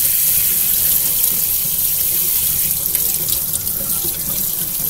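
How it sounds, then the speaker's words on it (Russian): Hot water runs steadily from a kitchen tap into a sink, a close, constant hissing splash that holds at one level throughout with no voices. "я горячую воду включил"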